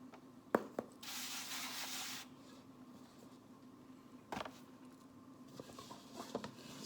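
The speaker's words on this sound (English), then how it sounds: "I'm going to sprinkle a little bit of flour, like a dusting, onto my board." Flour dusted by hand onto a wooden board for challah dough, a soft airy hiss of falling powder lasting about a second, framed by a few light taps and handling noises in a quiet kitchen.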